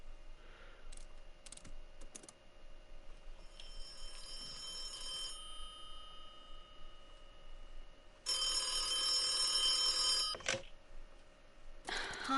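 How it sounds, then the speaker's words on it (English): A telephone rings in the video game The Occupation, a faint electronic trill in short bursts, then a louder longer ring, heard under soft keyboard-like clicks and room ambience. "Harvey Miller, do you ever answer your phone"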